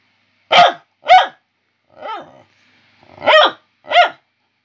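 A small cockapoo gives five sharp barks in uneven bursts, one lower and rougher like a growl, close by with silence between.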